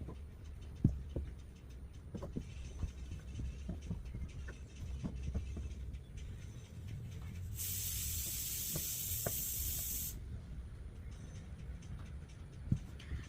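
A steam iron presses fabric during garment stitching, with soft thumps and handling noises, then a loud sustained hiss of steam for a few seconds before quieter handling resumes, near and alone.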